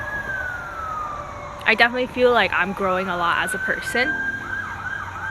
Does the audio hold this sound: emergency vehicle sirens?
yes